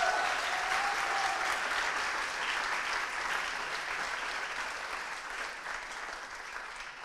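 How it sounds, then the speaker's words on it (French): An audience at an international film festival applauds steadily in a sustained, fairly close wash of clapping that fades slightly toward the end, with no one talking. "vous pouvez à nouveau les applaudir"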